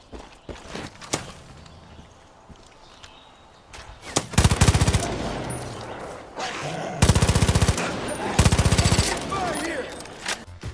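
Automatic gunfire rattles in Far Cry 5, with scattered single shots and steps early on, then long loud machine-gun bursts in rapid rhythm, near and dominant, with a voice talking beneath.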